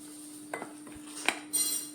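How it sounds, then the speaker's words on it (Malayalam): Egg and flour batter for vettu cake stirred with a spoon in a bowl, a few quiet, close clinks and scrapes of metal over a faint steady hum. "എന്നിട്ട് നമുക്ക് ഈ സ്പൂണും കൊണ്ടൊന്ന് നമുക്ക് ഇളക്കണം"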